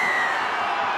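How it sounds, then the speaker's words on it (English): A rugby league crowd at Leichhardt roars for a Balmain Tigers try against the Brisbane Broncos in a 1998 match, a steady, loud wash of cheering with no break. "The crowd on their feet."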